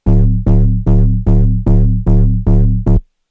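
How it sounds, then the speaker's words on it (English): A heavily distorted sub bass from the Serum synth hits seven times in a steady rhythm, each note buzzing loud and gritty before cutting to silence. "it's just like a very distorted sub almost"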